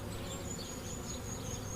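A dense swarm of honey bees crowds around a caged mated queen at an open colony, giving a steady, close, loud buzzing drone with a high whine over it and no pauses.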